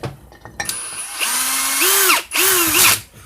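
Power tool tightening bolts on a 4R70W transmission front pump, with two sustained whirring runs whose pitch rises, dips and rises again as each bolt draws down, close and loud.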